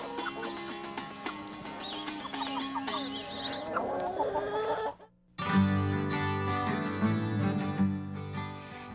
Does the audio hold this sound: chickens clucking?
yes